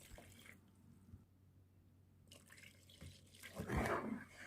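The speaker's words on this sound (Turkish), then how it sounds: "2 su bardağı ılık su koyalım" Warm water poured from a glass into a bowl with yeast and sugar, a faint trickle that grows into a splashing pour toward the end.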